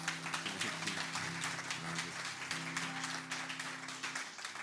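Concert audience applause rolls on steadily after a performance, a faint, even patter of many hands clapping at a distance over a low steady hum, with no voices rising above it.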